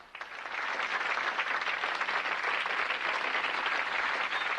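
A studio audience at a Thanksgiving comedy special breaks into steady, dense applause that swells quickly and holds at an even level throughout, fairly loud.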